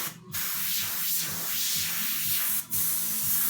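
An Iwata LPH 50 airbrush hisses steadily while spraying paint onto a Harley fender, with two brief pauses breaking the continuous close-up spray.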